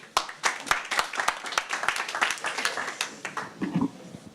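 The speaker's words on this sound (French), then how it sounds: "On peut l'applaudir encore." A small audience at a banking-sector pitch event gives distinct, sharp hand claps, fairly sparse and uneven in rhythm, heard up close for several seconds before thinning out.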